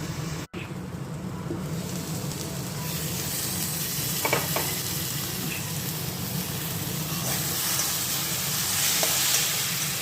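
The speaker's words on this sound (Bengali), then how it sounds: "এবার সুন্দর করে আমি কষিয়ে কষিয়ে নেমে নেব। জল টল কিছুই দেবো না" Curry sautéing in a pan without water gives off a steady, close sizzle and hiss, with occasional stirring scrapes and no voices.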